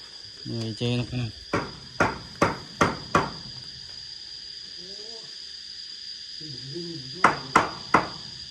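Hammering on small boards during outdoor work, sharp knocks falling in a steady run of about five blows and then a closing burst of three, over a constant insect-like hiss, with a voice speaking between the strikes.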